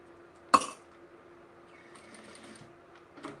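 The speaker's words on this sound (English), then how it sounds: "So now I'm just sewing along the bottom." A sewing machine runs along the bottom of a bag gusset, a quiet low motor hum with a sharp clack near the start and another softer knock at the end.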